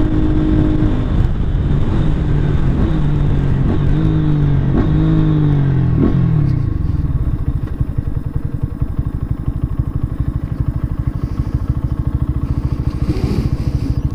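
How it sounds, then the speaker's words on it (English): A Lifan KPR 200 motorcycle accelerates hard while being ridden, its engine note climbing through several gear shifts before it settles into a steady loud drone with buffeting wind noise. "I thought I'd take my bike out and give it a little run through."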